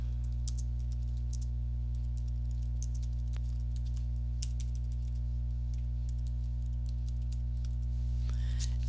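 Keys tapped on a computer keyboard while typing a short cell comment in a spreadsheet, a quick irregular patter of clicks over a steady low electrical hum, close and fairly quiet.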